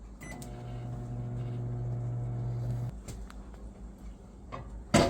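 A microwave oven hums steadily for about three seconds, then stops; a few clicks and a beep follow near the end, while pressing flowers with a Microfleur flower press.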